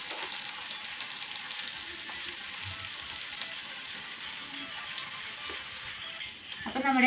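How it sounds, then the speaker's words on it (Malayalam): Shallots and garlic fry in oil in a pan for a Chinese potato stir-fry, making a steady, fairly quiet hiss and crackle. Soft scrapes of stirring run under it throughout, and no voices are heard. "നന്നായി ഒന്ന് ഇളക്കി കൊടുക്കുക. അത് നന്നായി ഒന്ന് മൂത്ത് വരണം"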